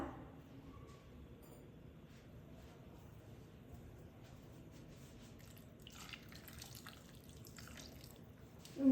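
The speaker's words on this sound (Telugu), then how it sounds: "ఇందులో కొన్ని వాటర్ పోసి బాయిల్ చేసుకోవాలన్నమాట" Water poured into a pot in a soft, steady trickle, faint and close, with no one speaking.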